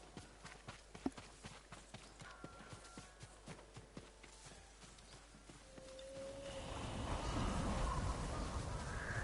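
A horse's hooves clip-clop in a steady, faint rhythm in Ghost of Tsushima. A louder whooshing, rushing sound builds in over the final few seconds.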